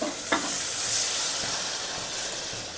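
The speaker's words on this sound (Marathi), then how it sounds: "आता आपण जे हे डाळ शिजवलेले आहे ना त्याला आपण आता फोडणी घालायची" A loud, steady sizzle and hiss of hot tempering oil hitting cooked dal, with a brief sharp crackle near the start and no voices.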